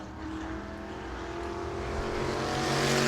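A race car on a qualifying lap at New Smyrna, its engine droning steadily with a rising pitch and growing louder as it approaches.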